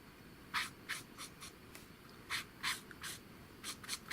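Spectrum Noir marker pen with a bullet nib drawing on a mini canvas, faint, close, irregular short scratchy strokes over a quiet background hiss.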